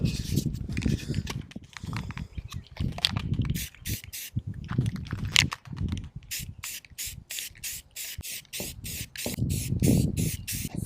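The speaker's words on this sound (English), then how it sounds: "this is by far my favorite way to spray paint" A spray paint can hisses onto a metal mounting plate for a showerhead retrofit, in short bursts at first and then a quick run of rapid, evenly spaced sharp sprays, close and loud.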